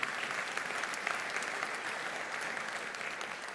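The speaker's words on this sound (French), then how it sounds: "qu'on peut applaudir" An audience applauds at a public ceremony as a guest, an Olympic judo bronze medalist, stands to greet them; the clapping is dense, steady and moderately loud, filling the whole stretch without a break.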